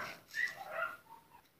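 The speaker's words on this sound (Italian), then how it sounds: "Scusate se sentite i cani" Dogs whimpering and yipping nearby in a short, thin burst of high whines with no deep barking.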